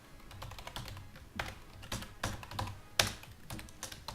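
Quiet, irregular clacking on a computer keyboard while code is typed, with bursts of keystrokes and a few sharper taps, faint and close with no voices.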